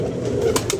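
Pigeons cooing close by in a short burst, a low steady murmur with a couple of brighter flutter-like accents near the end, no talking.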